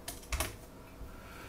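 Fingers type on a computer keyboard in a quick burst of a few close, quiet keystrokes, then a soft trailing tap in an otherwise hushed room.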